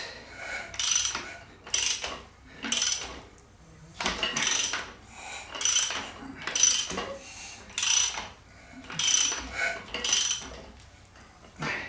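A ratchet turns a Subaru Forester engine over by hand during head gasket and clutch work, giving close, repeated bursts of clicking in an even rhythm, about one burst per second, with no talk.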